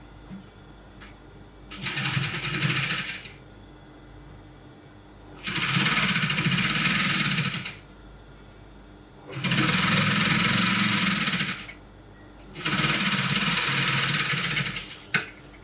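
A sewing machine stitches fabric cap pieces together in four separate bursts of rapid, loud whirring, each lasting a few seconds, with quiet pauses between.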